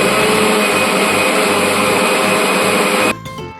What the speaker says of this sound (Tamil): நம்ம மிக்ஸியில் போட்டு கிரைண்ட் பண்ணணும்